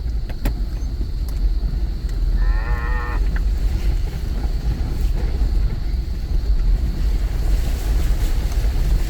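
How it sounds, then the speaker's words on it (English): Cows mooing outdoors along a rural track near Talbotville, heard as a short moo amid steady wind or surf-like roar, fairly distant and partly masked by the constant background noise. "More cows."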